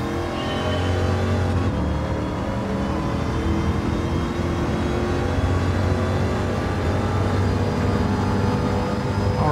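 Supercharged Corvette Stingray Convertible engine in Gran Turismo 7 races around an oval, a steady loud drone of engine tone holding throughout with little change, alone and without talk.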